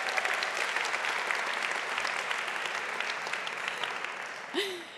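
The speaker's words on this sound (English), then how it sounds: "Give him a round of applause." Applause from the audience at an energy-sector pitch competition, a sustained, fairly loud wash of clapping from a sizable crowd, with a brief voice near the end.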